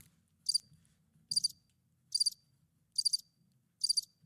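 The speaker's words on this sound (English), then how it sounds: "crickets." Cricket chirps come in five evenly spaced bursts, each a quick high trill about a second apart, clear and close over near silence.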